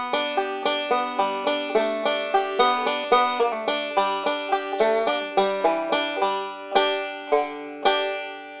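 A banjo plays the closing measures of Will the Circle Be Unbroken, with bright plucked notes in a quick, steady rolling rhythm, close and clear, ending on a few held notes.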